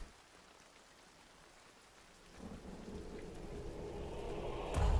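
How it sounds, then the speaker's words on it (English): Rain in the video game Hunt: Showdown sweeps in after a quiet opening, swelling into a steady, dense downpour that grows louder, with a deep thunder rumble at the very end. "Rain."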